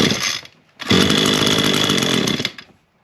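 A Craftsman chainsaw engine catches and fires, running loud and close for about two seconds with a steady high-pitched roar after a brief first burst and a short pause, then cutting out.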